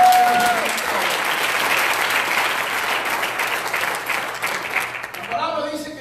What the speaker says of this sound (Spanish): dé un fuerte aplauso, Señor.